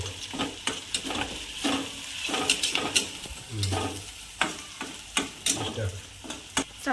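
Ginger garlic paste frying and sizzling in a pan, with a steady crackle under repeated sharp scraping and stirring strokes of a utensil against the pan, close and fairly loud, no talking.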